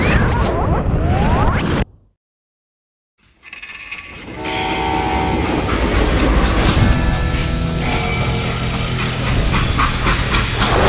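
A train in Call of Juarez: Gunslinger rushes by loudly and close, breaking off into a second of near silence before a roaring, rumbling rail clatter with tonal whistle-like ringing returns and carries on steadily.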